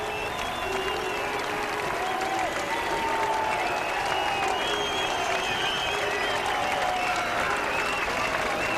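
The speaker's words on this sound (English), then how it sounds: "With then the rapturous applause from those fans on the bottom terrace." Rugby league supporters on a bottom terrace at a Whitehaven versus Keighley match clap loudly and continuously, a sustained roar of applause and crowd noise with voices mixed in.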